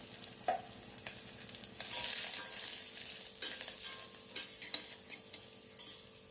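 Garlic, curry leaves and dried red chillies sizzle and crackle in a very hot pan for tempering, with stirring and scraping throughout a continuous, close frying hiss.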